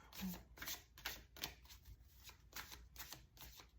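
Oracle cards being shuffled in the hands during a card reading, giving a series of soft riffling and sliding bursts at a steady rhythm, fairly faint and close.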